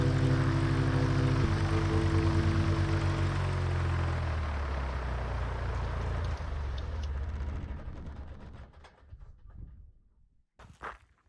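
Small propeller airplane departing a desert airstrip at 4th of July Strip in Arizona, steady engine drone loud at first, then fading as it pulls away, leaving near silence with a brief rustle at the end.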